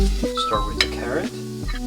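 Carrot frying in a generous amount of butter in a hot pan for kimchi fried rice, with a soft sizzle and short scraping stirs, quiet and close, under tonal music.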